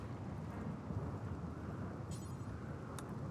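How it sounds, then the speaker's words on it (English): Rain and a thunderstorm in the colony-building game RimWorld, heard as a constant low, rumbling wash of rain and thunder that stays steady and fairly quiet throughout. "It is raining as well, so it's a rainy thunderstorm now."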